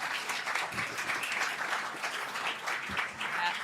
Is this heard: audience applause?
yes